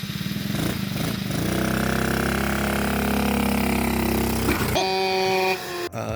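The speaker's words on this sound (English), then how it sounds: "50cc gas quad" A small 50cc gas quad engine runs steadily with a buzzing, harmonic drone that climbs slightly in pitch, then cuts to a different rough idle and other mechanical noise near the end.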